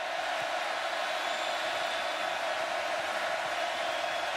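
Steady roar of a packed stadium crowd at a Kyle Field college football game, Clemson visiting Texas A&M, with a dense continuous wash of noise and no breaks or swells throughout.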